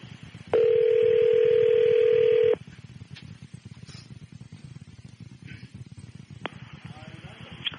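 A steady telephone tone sounds for about two seconds while a call is placed to 505 Wild FM radio, followed by a busy, murmuring line and a short click near the end.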